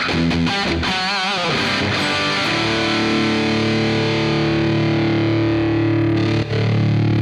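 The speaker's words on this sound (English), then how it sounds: "Hear it kick in, the drive got a little nastier." Electric guitar through an AX8 processor with heavy overdrive distortion, a few chord strikes then sustained gritty, buzzing tones ringing out loudly.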